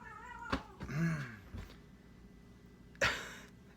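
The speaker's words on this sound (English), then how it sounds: "now the cats are fighting" Cats fighting indoors, with a few short yowls and hisses and one drawn-out caterwaul in quick, uneven bursts, fairly faint and with no voices.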